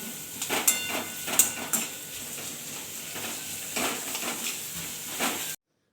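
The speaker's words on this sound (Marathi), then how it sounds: "आता ह्याच्यात जो कांदा कट करून घेतला होता तो सगळा घालून घ्यायचा आहे आणि कांदा पण छान आपल्याला आता मस्त असा भाजून घ्यायचा आहे" Chopped onion frying in oil in a kadhai, a soft sizzling hiss under several scraping stirs and light metallic knocks, fairly quiet and close, ending abruptly.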